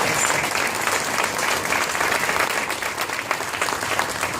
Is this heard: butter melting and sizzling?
no